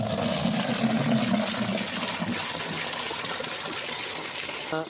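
Water gushes steadily from a prepaid card-operated water dispensing machine at a rural supply point, a continuous close flow with no voices over it.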